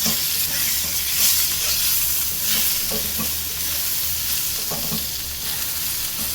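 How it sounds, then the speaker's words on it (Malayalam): Brinjal frying in a pan for Kerala mezhukkupuratti is stirred over a steady, loud sizzle, with soft scraping strokes of the spoon breaking through at intervals. "നമുക്കൊന്ന് ഇളക്കി വെച്ച് കൊടുക്കാം."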